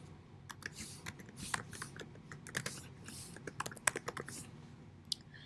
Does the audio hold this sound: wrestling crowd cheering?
no